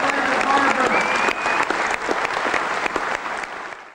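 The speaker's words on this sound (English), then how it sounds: "Have a nice round of applause once again for Floyd" An audience applauds a singing performance by Floyd the barber, a loud, dense round of clapping with a few faint held vocal tones early on, gradually thinning and fading toward the end.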